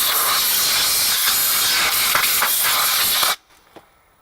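Compressed-air spray blasting dust off the rear drum brakes of a Jeep Cherokee XJ, a loud continuous hiss lasting about three seconds before cutting off abruptly to near silence.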